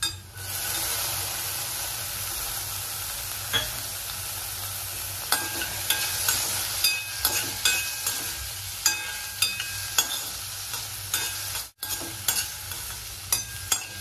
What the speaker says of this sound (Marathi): टोमॅटो मऊसर होईपर्यंत ह्याला आपण परतून घेऊयात।